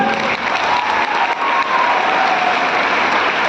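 Loud, dense audience applause at a business plan presentation, many hands clapping steadily and close for a few seconds with a faint murmur of crowd beneath.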